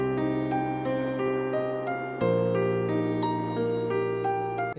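FL Studio melody built from a panned synth lead with a piano sitting low in the background, steady stepping notes over a sustained bass that shifts midway, continuous and without talk.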